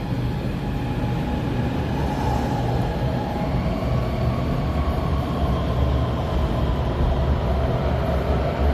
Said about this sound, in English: Next train.